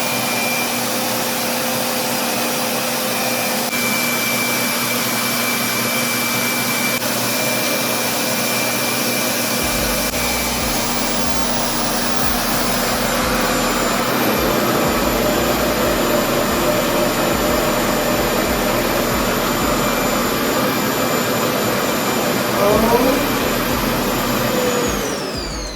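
A RevAir reverse-air hair dryer runs loud and steady, a continuous vacuum-like whoosh and whine that holds unbroken throughout, with a slight shift in tone partway through and no speech.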